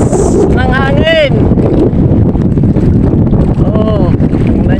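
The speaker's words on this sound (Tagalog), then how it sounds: "Ang lakas ng hangin." Strong wind buffets a boat sheltering beside an island rocky shore in big waves, a steady roar of gusts on the microphone with engine and water noise beneath and a voice calling out briefly.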